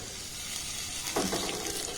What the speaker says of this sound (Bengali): কাজু আর কিশমিশটাকে প্রথমে একটু নাড়াচাড়া করে ভেজে নেব